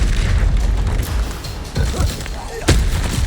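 Incendio fire spell in the Hogwarts Legacy video game, a loud burst of booming, crackling blasts with a sharper crack near the end, dense and close.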